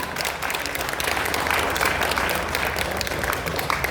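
Audience at a FOR SANTRI inauguration ceremony in Kota Batu claps together in a loud, dense, continuous round of applause filling the whole stretch.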